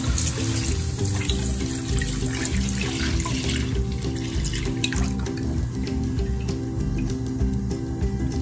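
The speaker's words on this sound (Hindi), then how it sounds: "अब हम इसमें डाल देंगे दूध" Milk poured into a heated cooking pot while making kulfa, a steady continuous liquid rush and splash lasting several seconds, close and fairly loud, with no voices.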